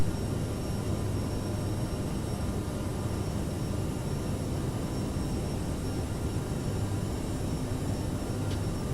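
Airliner engines at climb throttle in Microsoft Flight Simulator, on a flight from Stockholm Arlanda to Vilnius, make a steady, loud, broadband roar with a low rumble. The sound holds constant throughout, with no voices.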